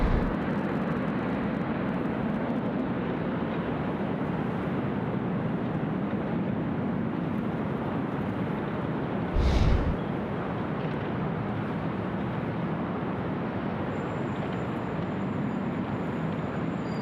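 An airliner departs Sydney Airport's runway 25 in windy conditions, giving a steady, broad jet roar that holds throughout with a brief thump partway through and no talk.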